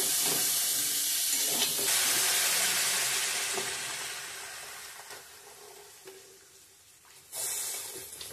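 Water poured into sizzling fried masala for a potato and pointed gourd paneer curry, loud hissing steam that gradually fades, then a fresh burst of sizzle near the end.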